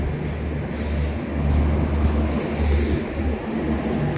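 The Tebhaga Express, an LHB-coach train, rumbles into Gangarampur station with a steady, loud low-pitched rolling drone and rhythmic wheel thumps heard from on board.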